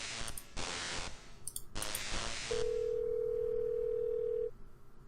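A few sharp clicks from a telephone handset in the video game Thimbleweed Park are followed by a clean, steady dial tone that hums for about two seconds before cutting off.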